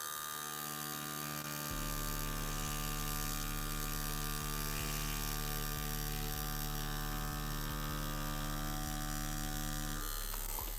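A rotary or coil tattoo machine buzzes steadily and continuously at close range, a constant mechanical hum with small regular ticks throughout, kicking in after a brief quiet start while a tattoo is lined in traditional style.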